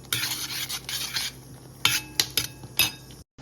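Boiled chickpeas are stirred and mixed in a pot, with a spoon scraping and clanking in irregular strokes close by, growing sharper toward the end, with no voices.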